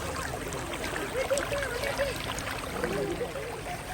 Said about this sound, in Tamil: தண்ணியோட சவுண்டு வருது.